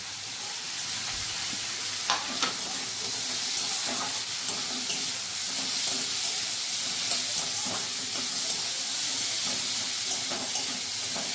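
Onion and green chilies frying in oil in a home kitchen pan for tomato chutney: a steady close sizzle and hiss throughout, with light intermittent taps and stirring clinks and no talking.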